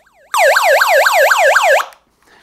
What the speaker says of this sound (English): an attention-getting alarm